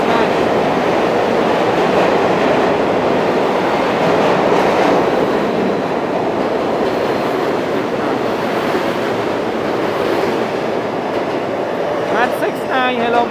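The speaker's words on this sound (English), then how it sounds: "This is the F train right here." A New York City subway F train rumbles steadily with loud, continuous rail noise and wheel clatter, heard up close from start to finish, with brief squeals near the end.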